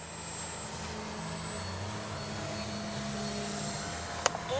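A Freewing F-22 RC jet model flies with a steady, fairly faint whooshing electric ducted-fan whine, broad and continuous, with a brief sharp tick near the end and no talk over it.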